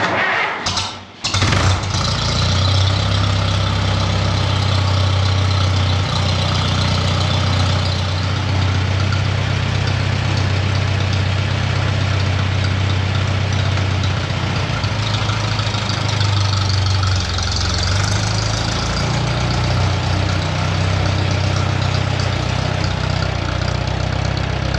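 A large riding mower engine cranks briefly, catches and then settles into a steady, loud, low idle that runs without a break until the end, with no talk over it.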